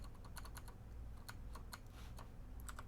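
Rapid, irregular clicks of typing on a computer keyboard, faint and close, set against a low steady hum.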